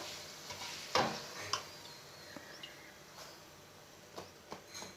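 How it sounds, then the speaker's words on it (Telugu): Puri frying in hot oil in a kadai, a soft bubbling sizzle with a few sharp crackles and spatters, close and fairly quiet, with no talking. "రుద్దుకున్న తర్వాత బాండీలో వేసుకుందాం బాండీలో వేసుకు చూడండి పూరి ఎంత పర్ఫెక్ట్గా పొంగిందో"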